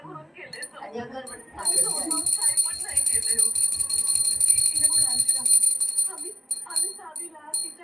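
A bell rung repeatedly during a Ganpati puja in a home, a rapid continuous high metallic ringing lasting several seconds, with people talking over it throughout.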